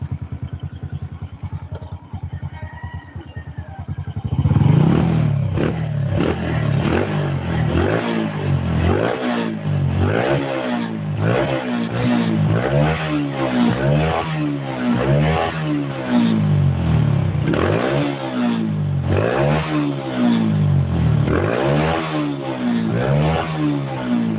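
An old Honda Supra 125 motorcycle engine with a clutch fault idles briefly, then is revved repeatedly in loud, rhythmic rising and falling bursts, close up and with no talk.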